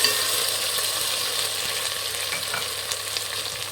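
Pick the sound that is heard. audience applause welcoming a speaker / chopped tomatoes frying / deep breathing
chopped tomatoes frying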